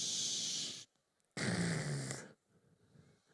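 A crowd at a baseball night event imitates sea waves and surf backwash with their voices: two long breathy whooshing swells, the second rising and falling, followed by quiet murmuring.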